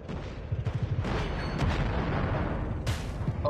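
Heavy explosions and gunfire from a COD Mobile tank battle, a loud rumbling barrage of booms with a sharp blast near the end, close and continuous.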